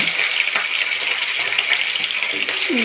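Green chilies and onions fry in a pan of hot oil with tempering seeds, a steady close sizzle and hiss lasting the whole few seconds, with no talking.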